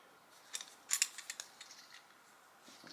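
Scissors snipping material for a Dollar Tree heart bucket craft, with a short run of crisp close cuts, faint and alone.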